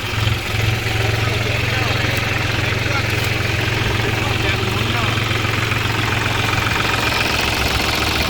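A New Holland front-loader backhoe tractor with a three-cylinder engine runs steadily close by, a loud continuous low rumble with slight revving, while people talk over it.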